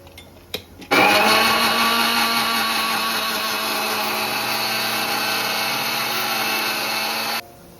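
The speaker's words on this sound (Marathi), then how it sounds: "मस्त मिक्सरून घेऊ" A mixer grinder purees leafy greens with water, starting with a couple of clicks, then a loud, steady whirring roar that runs for several seconds before cutting off abruptly.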